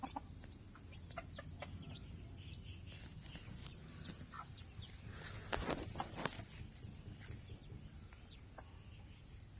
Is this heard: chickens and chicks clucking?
yes